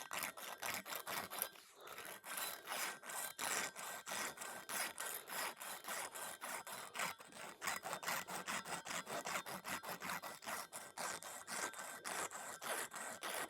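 A welded metal piece being cut through for inspection: a steady, harsh back-and-forth sawing rasp that continues almost without pause, close and dense.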